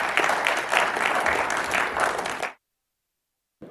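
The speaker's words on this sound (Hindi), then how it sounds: "एक बार तालियां शकील आजमी साहब के लिए।" A hall audience at a poetry recitation gathering in Pune applauds poet Shakeel Azmi, dense sustained clapping for about two and a half seconds that cuts off abruptly into silence.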